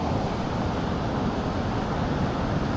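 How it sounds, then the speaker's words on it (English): Big ocean waves surge onto rocks at a surf-fishing beach, a loud, continuous broadband roar and wash mixed with wind buffeting, steady throughout with no voices. "But big surges, big waves."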